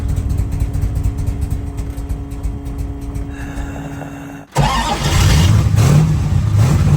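A cold Plymouth Barracuda cranks with a rapid rhythmic starter churn for several seconds, then catches abruptly and fires into a loud, rumbling idle close by.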